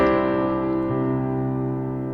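Sustained piano chord ringing and slowly decaying, with a lower left-hand octave note entering partway through; a beginner-to-advanced rhythm pattern played alone with no talk, clear and close.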